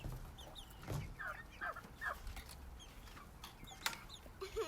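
Chickens and baby chicks cluck and peep close by, short scattered calls over a soft background, with a few louder squawks.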